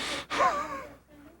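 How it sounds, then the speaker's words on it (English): A sharp gasp followed by heavy, breathy exhalation, close and fairly quiet, trailing off into near silence. "I need about 15 seconds here, just Heavy breathing"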